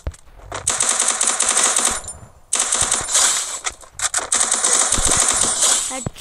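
Rapid automatic bursts from an MP submachine gun in a 1v1 lone wolf video game match, loud and continuous with a short gap before the firing resumes, a voice briefly audible beneath the shots.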